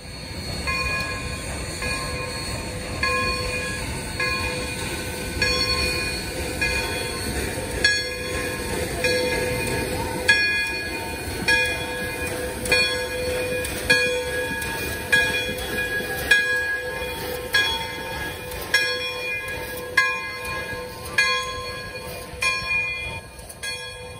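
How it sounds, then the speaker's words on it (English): Pere Marquette 1225 steam locomotive backing up into town after unloading passengers, giving a steady rumble of rolling rail cars with repeated rhythmic chuffs, a faint bell and high ringing tones running throughout, with no talking. "Once the train has unloaded all the passengers, the Troll 25 went into reverse back into town for photo opportunities."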